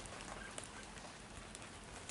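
Heavy storm rain pours down outdoors, a loud, uniform hiss of countless drops striking surfaces with a few sharper splashes, steady and unbroken over two seconds.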